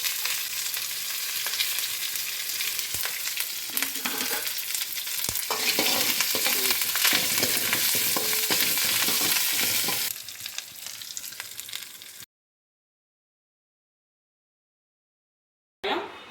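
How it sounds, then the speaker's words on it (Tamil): Sesame seeds, dried red chillies and curry leaves fry and sizzle in hot oil for a Tamil pumpkin and bottle gourd kootu, a loud steady crackle with stirring clatter for about ten seconds, then silence. "இது வந்து எள்ளு மட்டும் பொரிச்சுக்கலாம் வரமிளகாயும் பொரிச்சுக்கலாம்"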